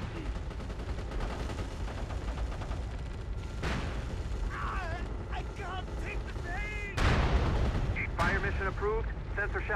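Video game artillery fires sensor shells, giving heavy booming blasts and rumbling impacts over a continuous battle din, with a louder explosion near the end and radio-style voices talking throughout.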